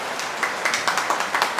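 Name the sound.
applause for the teenagers at church service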